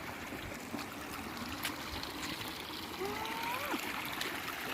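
Clear stream water running over rocks in a forest, a steady close trickling and gurgling rush that continues without a break.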